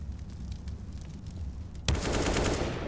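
A USP pistol shot in a Counter-Strike pro match on the Vertigo map, Natus Vincere against Vitality, cracks loudly once nearly two seconds in over steady game noise, followed by sustained crowd or ambient roar.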